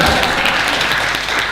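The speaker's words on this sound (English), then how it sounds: "Everybody clap." Audience applause after a public lecture, a dense, steady wash of many hands clapping at close range, sustained and even throughout with no voices standing out.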